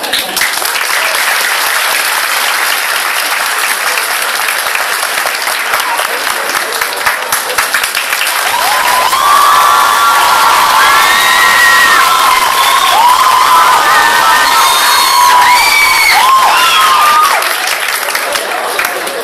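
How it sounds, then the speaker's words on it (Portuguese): Sustained applause from a large crowd at a charity fashion event, steady and loud for the whole stretch, with cheers and shouts rising over the clapping partway through. "vamos aplaudir"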